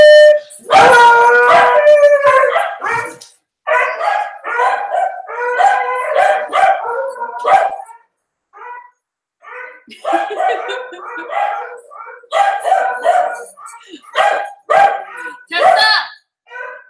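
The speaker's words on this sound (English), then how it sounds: "One of our neighbors has a dog." A neighbor's huge white dog, massive like a polar bear, howls and barks loudly and close by in repeated drawn-out bursts separated by brief pauses.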